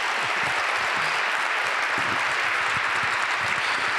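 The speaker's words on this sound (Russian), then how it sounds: "это заслуживает горячих аплодисментов зала" Audience applause in a hall, a dense steady wash of clapping from many hands that holds at an even level for the full four seconds, with no speech over it.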